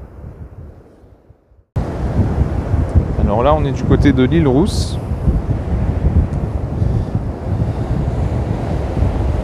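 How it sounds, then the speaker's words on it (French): Strong wind by the sea near L'Île-Rousse blasts loudly and continuously into the microphone with a heavy low roar, after a quieter opening, while a person talks briefly early on. "C'était chouette quand même, mais beaucoup trop de vent là ici."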